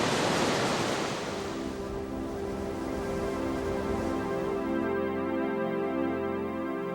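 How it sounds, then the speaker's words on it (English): The flooded Virgin River in Zion National Park, swollen and rushing, makes a loud, steady broadband roar that holds constant throughout, with no voices. "The Virgin River, now swollen to a flood, at last looks like a formidable erosive force."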